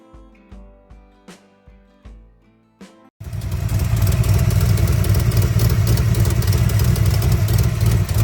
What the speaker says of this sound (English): 4-cylinder Volkswagen engine.